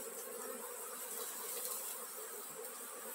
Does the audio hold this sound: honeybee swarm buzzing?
yes